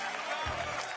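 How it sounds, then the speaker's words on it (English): A home crowd in Poland roars and applauds at the final of a 16-versus-16 medieval armored combat championship against the USA, a brief, dense wash of cheering that holds steady throughout. "the hometown crowd goes wild"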